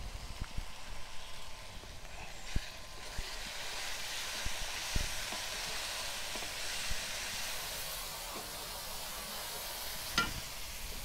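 Turmeric and chili powder fry in a pan with a steady, close hiss of sizzling oil, broken by occasional scraping stir knocks.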